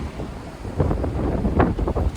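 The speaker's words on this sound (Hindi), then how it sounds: "तेज हवा चली आज भी" Strong outdoor wind gusting hard across the microphone, a continuous low roar with rumbling buffets that surge and ease over a couple of seconds, with no voices heard.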